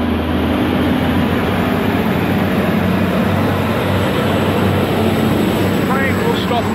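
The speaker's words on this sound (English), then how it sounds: "Aurizon or Pacific Nationals Brisbane to Melbourne freight train" A heavy, continuous rumble of an Aurizon or Pacific National Brisbane-to-Melbourne freight train rolling past nearby at Metford station, steady and loud, with faint high squeals near the end.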